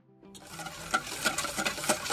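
Curd and milk are whisked together in a bowl for an eggless cake batter, a short burst of rapid wet churning and scraping strokes that starts after a brief quiet moment, close up, with no voices.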